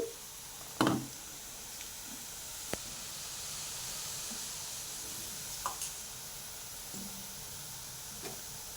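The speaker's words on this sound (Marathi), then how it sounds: "तेलामध्ये असे हाताच्या साह्याने बनवून घ्यायचं मोठाच गॅस ठेवायचा कारण हे कडक बनलं पाहिजे" Vada pav fritters fry in hot oil over a high flame, making a soft, steady hiss with a few faint pops and knocks scattered through an otherwise quiet kitchen.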